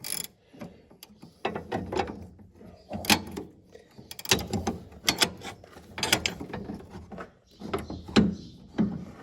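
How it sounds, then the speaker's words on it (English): A Deere wrench turns a bolt during hydrostat repair on a John Deere 7720 combine, giving close, repeated bursts of ratcheting clicks with short pauses between strokes. "We are using a Deere wrench here, one of the handiest tools that we have."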